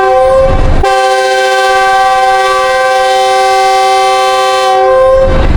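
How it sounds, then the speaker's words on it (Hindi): Departure whistle of the 104 Down Subah Kharam rail car train with a new rake, a loud sustained horn blast of about four seconds, steady and close, standing alone without talk over noisy surroundings. "ये जी डिपार्चर विसल 104 डाउन सुबह रफ्तार सुबह खराम रेल कार है"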